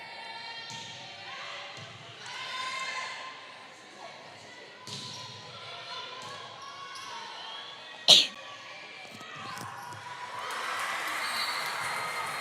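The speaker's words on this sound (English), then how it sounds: "excuse me if you heard a sneeze in the background" A single sharp sneeze in the background of a high school volleyball match between Los Fresnos and Brownsville Veterans, a brief burst amid a commentator's talk and gym crowd murmur.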